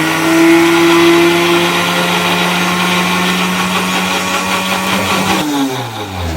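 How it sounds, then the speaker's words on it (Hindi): A kitchen blender grinds mint leaves with water, a loud steady motor whir holding for about five seconds before spinning down and slowing toward the end. "पुदीने को अच्छे से हमने ब्लेंड कर लिया है"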